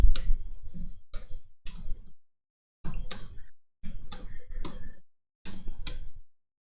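Clicky keyboard keys tapped in short clustered bursts while a message is typed, close and fairly quiet, with pauses of about a second between groups; no talking.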